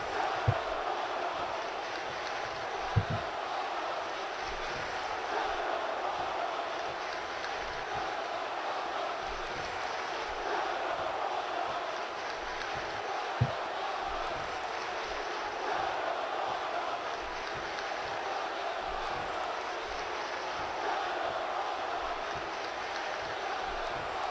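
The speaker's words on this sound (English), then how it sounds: "And this crowd still chanting at Shazeen." A wrestling crowd chants at a heel at a live event in Nashville. It is a steady, dense roar of massed voices that never lets up, with a couple of sharp thumps standing out.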